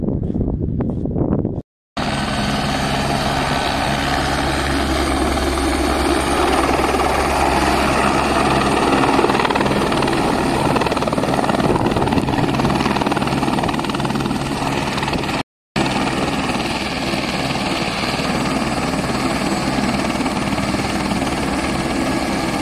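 A helicopter arrives at a refill point next to a tank. Its rotor and engine roar loudly and continuously throughout, with a rhythmic thumping under wind buffeting, broken by two brief dropouts.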